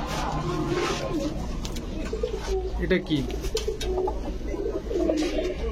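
Pigeons in a Bangladeshi pigeon shop selling Budapest, Saharanpuri and Giribaz breeds coo in low, repeated murmurs, close by and steady. They run under a man's brief spoken question, with shop bustle around them.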